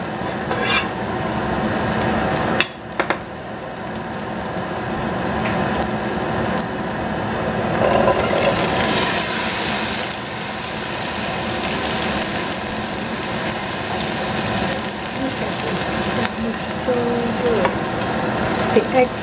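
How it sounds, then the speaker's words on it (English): String beans frying in leftover oil in a pan, a loud, close, steady sizzle and crackle that surges brighter partway through as the pan is stirred, with a couple of scraping knocks and no speech. "we can use the leftover oil to cook that string bean"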